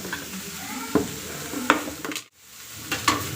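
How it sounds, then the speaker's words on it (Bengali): Soybean chunks, pointed gourd and capsicum for a mixed vegetable sabji sizzling in a pan, a moderate hiss punctuated by a few sharp utensil clinks and stirring scrapes. "সয়াবিন, পটল, ক্যাপসিকাম এগুলো একসঙ্গে ঢেলে দিয়েছি।"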